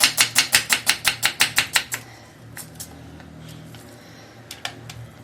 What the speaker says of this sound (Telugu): ఆనియన్ పకోడీకి ఉల్లిగడ్డ కట్ చేసుకుందాం